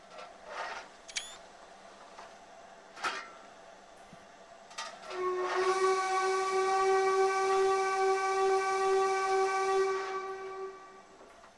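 After a few sharp clicks, a loud whistle from a Stanier steam locomotive blows one long sustained blast of several seconds, ringing out and echoing before it stops.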